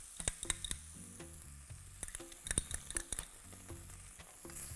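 Tomato paste sizzles quietly in a pot of Asian potato stew with soft frying crackle, punctuated by intermittent scraping and clicking stirs.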